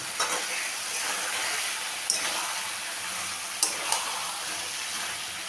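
Chicken sautéing in a pan with turmeric, chili and coriander powder makes a broad, steady sizzle, with a few brief scrapes of a stirring spoon over several seconds and no speech.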